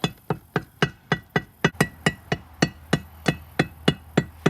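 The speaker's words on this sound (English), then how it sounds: "Tap it around with a hammer, and it pretty much cuts it out." Steady, evenly spaced hammer taps on a water pump gasket during a Link-Belt water pump repair, about three taps per second, sharp and close with no talking.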